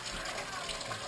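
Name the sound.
water running into a pan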